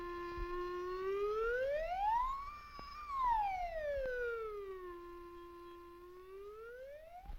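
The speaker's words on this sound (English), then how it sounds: "Sliding up and down the scale changes the picture." A pure electronic tone glides smoothly up the musical scale, peaks, then slides back down and starts to rise again, steady and siren-like over about seven seconds, with faint clicks and no speech.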